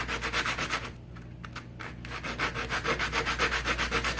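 Coarse sandpaper rubs steadily over a wooden pick handle as it is turned, giving a close, rhythmic scratching with repeated even strokes and a brief lighter pause midway.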